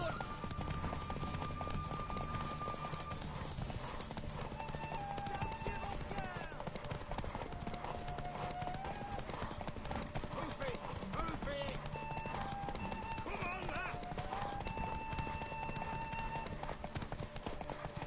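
Horse hooves clip-clopping steadily with occasional neighs in the Witcher 3 video game, heard under ongoing character dialogue and game music throughout.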